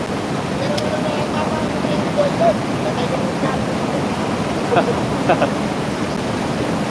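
A strong river current rushes past during a crossing, a loud, steady broadband roar of churning water close by that runs unbroken from start to finish.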